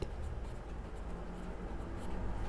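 A pen scratches on paper in short, faint strokes, written alone and close with no voice over it.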